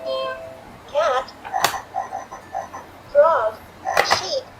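A VTech Brilliant Baby Laptop toy plays an electronic frog croak, a few short ribbity bursts mixed with a cheerful synthesized voice announcing the animal, loud and close.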